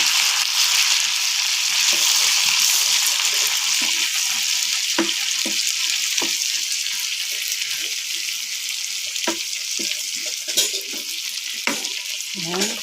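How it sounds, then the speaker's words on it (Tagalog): Garlic, onion and four tomatoes sautéing for pork adobo, a loud continuous frying hiss with scattered stirring clinks and scrapes up close, with no talking. "Ginisaan po natin siya ng bawang at sibuyas."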